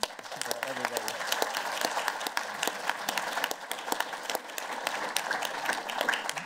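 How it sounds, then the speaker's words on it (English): Applause from a political analytics conference audience, a continuous spread of many hands clapping for several seconds, moderately distant, with individual claps popping out of the steady wash. "I just want to give them a big round of applause"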